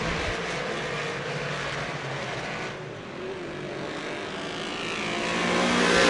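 Modified race cars circle an oval track during a heat race at Merrittville Speedway, a broad, continuous engine roar that holds steady and swells louder toward the end as the pack passes close.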